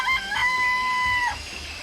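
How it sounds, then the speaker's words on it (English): A single drawn-out, high-pitched chicken call in the video game Danganronpa: Trigger Happy Havoc rings out clearly over a faint background hiss, lasting about a second before fading. "I remember there were some chickens in the coop."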